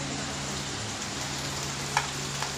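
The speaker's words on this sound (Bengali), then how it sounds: "কোথায় পনিরটাতে কি এরকম ভাজা হয়েছে?" Homemade paneer fries in a pan, giving a dense, continuous sizzle at an even level with a couple of brief clinks near the end, and no speech.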